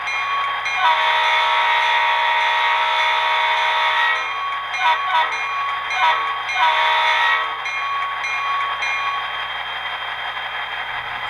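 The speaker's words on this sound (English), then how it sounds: "Functions 1 and 2 play the horn and the bell." A model Santa Fe EMD SD40-2 locomotive's horn sounds in long steady blasts with a bright metallic tone, broken briefly by short gaps, loud and close.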